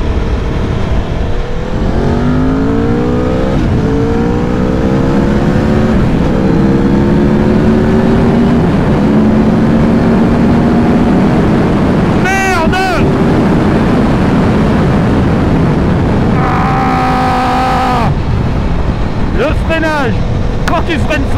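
An Aprilia Tuono V4 motorcycle engine revs high and accelerates through rising gear pitches, loud and continuous, with a voice talking over it in French.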